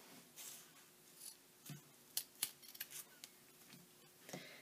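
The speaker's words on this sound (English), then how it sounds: "then cut off those two metal stops" Scissors snip off the metal stops at the open end of a zipper, giving a handful of sharp, quiet clicks and cuts spaced irregularly over a few seconds, with soft rubbing between them and no talk.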